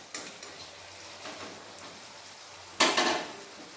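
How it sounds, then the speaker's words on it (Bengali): Tomato sautéed with cumin and ginger in a pan for a fish curry made without onion or garlic: a faint, steady sizzle broken by a few light scrapes and one louder stirring clatter near the end. "মশলার সাথে টমেটোটাও ভালোভাবে কষিয়ে নেব।"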